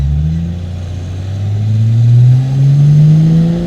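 A 1000HP turbo Barra engine revs hard on a downshift, a loud close rising growl whose pitch sweeps upward with layered harmonics, with no talk over it.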